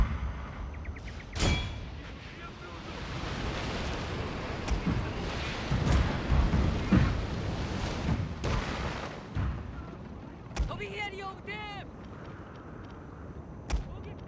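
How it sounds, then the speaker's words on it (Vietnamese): Artillery shells firing in the battle strategy game Total War Shogun 2, several sharp cannon booms spaced apart over rumbling battlefield ambience, with some brief talk between the shots. "Khá nhiều đạn pháo nên mình phải bắn cho bằng hết đã."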